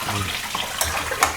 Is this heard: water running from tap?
yes